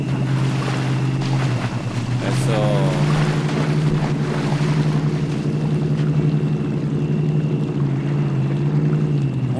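A heavy Chevrolet TrailBlazer in the off-road game MudRunner ploughs into water, its engine droning steadily under continuous splashing and sloshing, with a voice briefly heard.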